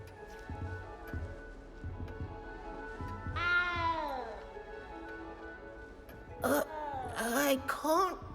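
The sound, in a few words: cat meowing in the video game Hogwarts Legacy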